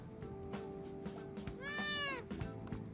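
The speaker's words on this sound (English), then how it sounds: "Meow." In the video game Persona 5 Royal, a cat gives a single clear, rising-then-falling meow midway through, close and distinct over a soft steady music bed.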